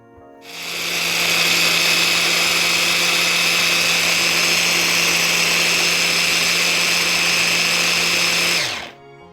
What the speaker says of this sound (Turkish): Ve şimdi bunu güzelce blender edeceğim